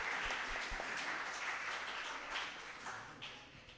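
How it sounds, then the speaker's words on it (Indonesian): Applause in a Sunday church service for Pak Johan CS, a dense wash of clapping from the congregation that holds steady and then gradually tapers off near the end. "Kita beri tepuk tangan dong buat Pak Johan CS."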